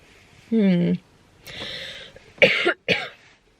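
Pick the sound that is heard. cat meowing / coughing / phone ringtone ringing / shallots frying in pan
coughing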